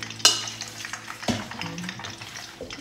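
Battered salt and pepper prawns drop into hot oil and fry, with a sharp splash, a clunk of utensils, and quieter bubbling and stirring sounds in between.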